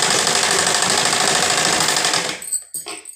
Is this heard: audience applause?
no